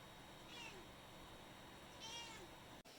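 A cat meows twice, faint and indoors, the calls spaced apart over a low background hum, ending with a sudden sharp knock.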